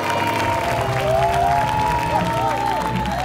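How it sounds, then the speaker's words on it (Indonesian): An audience at a morning dangdut singing competition broadcast claps steadily, with crowd noise and some tonal music-like whistling layered over the continuous applause. "Tepuk tangan buat saya."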